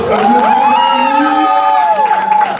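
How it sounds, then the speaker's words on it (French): Young people at a youth retreat cheer and whoop with applause mixed in, loud and close, with shouting voices rising and falling over the clapping throughout. "nous avons Madame Camille, s'il vous plaît, applaudissez"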